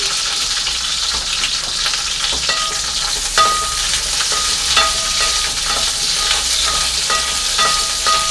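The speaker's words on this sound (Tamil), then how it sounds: "இப்போ எண்ணெய் காஞ்சிருச்சு நம்ம வந்து வெண்டைக்காய் போட்டு வதக்கிடுவோம்" Sliced okra sautés in hot oil in a pan, giving a steady, close sizzle with occasional stirring scrapes and no talking.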